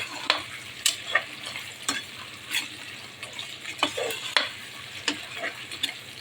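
Potatoes and peas frying in oil for palak rice, a bright continuous sizzle broken by repeated spatula scrapes and stirring clatter against the pan, close and fairly loud with no voices.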